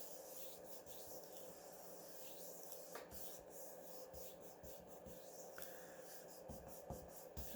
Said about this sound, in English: I'll even up my sides here and round my corners.